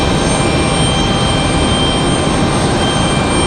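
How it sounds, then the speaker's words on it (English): An Air France Boeing 787 Dreamliner departing Raleigh-Durham roars as a loud, steady broadband jet-engine rush with a constant tonal whine, unbroken and close for the whole stretch. "Next departure, though, this is going to be Air France and that Dreamliner headed back to Charles de Gaulle in Paris"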